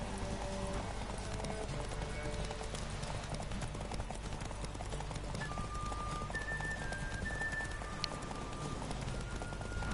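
Clip-clop of a horse galloping in The Witcher 3, rapid rhythmic hoofbeats running continuously under game ambience, with brief tonal game sounds and no talk.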